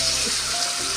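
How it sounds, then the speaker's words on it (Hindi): Ginger garlic paste frying in a pan, a brief close hiss of oil sizzling steadily and fairly loud with no voices. "पकाएंगे ताकि इसका ये कच्चापन निकल जाए हमारी, और अच्छी सी खुशबू आने लगे लहसुन अदरक की"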